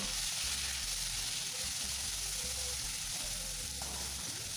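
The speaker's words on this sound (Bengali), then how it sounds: "সেটাকে এই তেলের মধ্যে দিয়ে জল না দিয়ে একদম ভেজে নিতে হবে ভালো করে" Spice paste fries in hot oil without water for an egg and peas curry, giving a steady, close, dense sizzle and hiss throughout with faint stirring scrapes.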